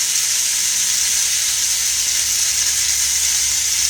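Rough-cubed half onion frying in a pan, a steady, fairly loud sizzle with a constant bright hiss throughout and no talk.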